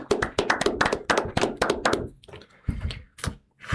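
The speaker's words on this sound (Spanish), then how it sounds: "Un aplauso, por favor." Studio audience at a radio broadcast giving a short burst of clapping, a quick run of close, sharp hand claps that fades after about two seconds into scattered softer sounds.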